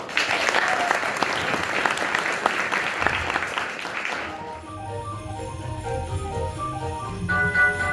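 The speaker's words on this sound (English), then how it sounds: "Please give them a round of applause as they join me on stage" An audience at a stage play claps loudly for about four seconds, then the applause fades as upbeat music for Jingle Bells begins.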